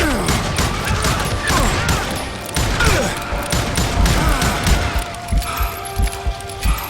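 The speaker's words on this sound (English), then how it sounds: "The hell was shooting at me?" Dense, rapid gunfire rattles through a shootout in the Western video game Call of Juarez: Gunslinger, with overlapping shots, crashes and impacts, loud and continuous throughout.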